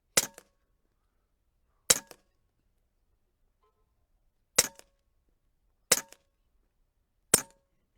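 Five sharp airgun shots from a Huben K1 fired at a paper target, each a crisp, loud crack with a brief metallic ring, spaced irregularly over several seconds with near silence between.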